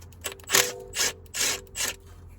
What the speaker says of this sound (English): I'm gonna go around and undo our oil pan bolts here.